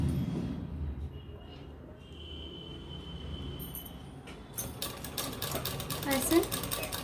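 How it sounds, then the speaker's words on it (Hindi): A sewing machine runs slowly, stitching large pearl lace onto the edge of a dupatta. It makes a faint, even mechanical whir that turns into a louder rapid clatter in the second half, with someone speaking over it. "बराबर करने के बाद हम सिलाई बिल्कुल धीरे धीरे लगाएंगे।"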